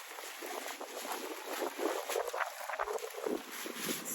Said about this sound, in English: These winds are vicious